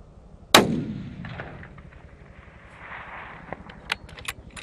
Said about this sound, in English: I'm going to shoot for that black line.